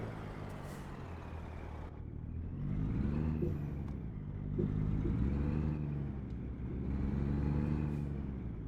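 A truck engine in American Truck Simulator rumbles low and steady as the rig pulls away, its drone swelling and easing in long waves, with a brief hiss partway through.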